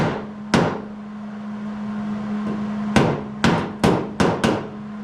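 Six sharp hammer strikes, one early then a quick irregular cluster of five, ringing against a steady low hum.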